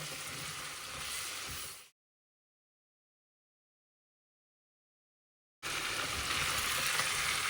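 Chopped onions fry in hot oil for Uzbek-style plov as they are stirred, a steady sizzle that cuts out into silence midway and returns just as loud.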